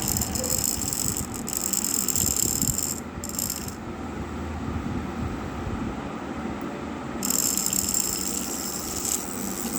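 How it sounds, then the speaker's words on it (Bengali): A small DVD motor runs on a bench power connection, turning its gear with a near, steady whirring rattle; a high whine cuts out midway and then returns. "এই দেখুন গিয়ার ঘুরছে"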